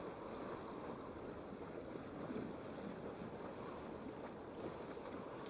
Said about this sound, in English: Wow, look at these waves.